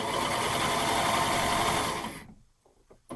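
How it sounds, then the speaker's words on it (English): An overlocker serger runs at speed, seaming a pant front to a pant back with a loud, steady, buzzing mechanical drone up close before it stops abruptly near the end, leaving faint handling noises. "we're serging together the pant front and the pant back"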